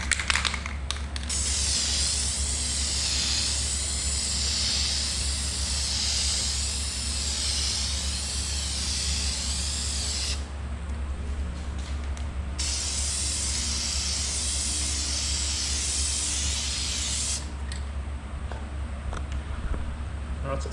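An aerosol can sprays paint onto an Evo X gauge cluster surround in long, loud hissing passes, with a brief break of a second or two between two sustained bursts, over a low background hum.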